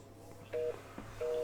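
Short bursts of telephone tones sound in two separate pulses against a steady low hum, like keypad dialing on a landline heard close by.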